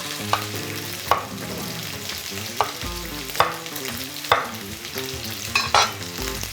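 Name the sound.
chicken frying in a pan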